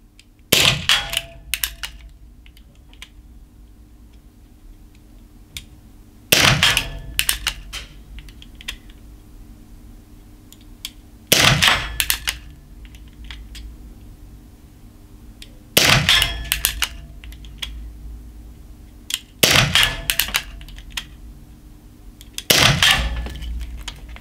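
An EKOL ES P66 4.5 mm CO2 air pistol fires six sharp, loud shots at 25 metres, each a crisp crack with a short metallic tail, spaced about four to five seconds apart.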